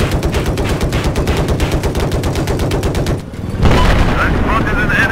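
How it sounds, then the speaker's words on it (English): Rapid automatic gunfire in Battlefield 4, a steady loud stream of bursts that breaks off briefly near the end before heavier firing and explosions resume. "Someone's shooting at us."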